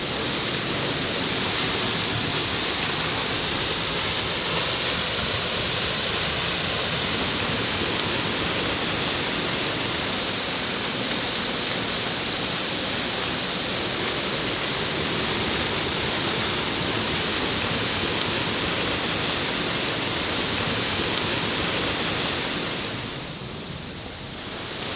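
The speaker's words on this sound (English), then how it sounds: "The Spouting Rock waterfall flows through holes in the limestone rock." Spouting Rock waterfall near Hanging Lake in Colorado pouring through holes in limestone: a loud, close, continuous roar of rushing water that stays constant, easing slightly at the very end.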